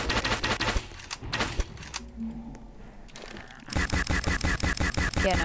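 Rapid video game gun bursts, an automatic weapon rattle in a Roblox-style shooter, dense clattering shots at the start, a quieter gap, then a sustained loud stream of fire to the end.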